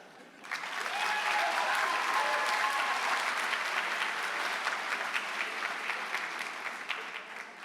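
Sustained audience applause fills a high school honors convocation, steady and dense for several seconds before tapering slightly at the end.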